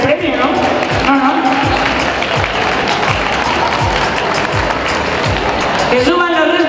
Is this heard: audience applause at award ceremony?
yes